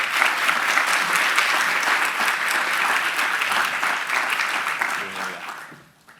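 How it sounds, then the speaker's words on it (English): Loud, dense audience applause welcoming a speaker to a security and economic development conference at Oxford University, sustained evenly for several seconds before tapering off at the end. "Please, a round of applause."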